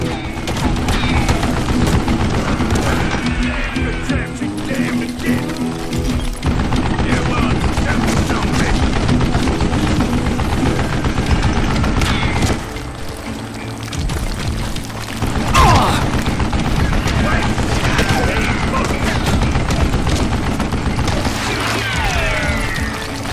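Mounted gun in the Call of Juarez Gunslinger video game fires loud, sustained bursts that keep going almost without a break. The rattle drops off briefly, then roars back with crashes and booms.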